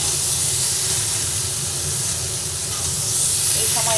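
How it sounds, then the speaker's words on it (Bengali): Mixed vegetables fry together in a pan with salt, a loud, dense, unbroken hiss that holds steady throughout with a few faint clinks toward the end. "এরপরে সব সবজি দিয়ে একসঙ্গে ভেজে নিচ্ছি।"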